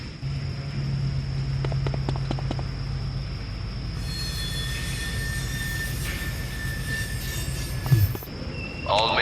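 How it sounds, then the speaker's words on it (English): A train approaches in the PS2 game Cold Winter, a rumbling rail roll with squealing wheels that builds into a loud, bright screech, ending in a clunk, with a faint voice early on. "Andy, there's another train coming your way."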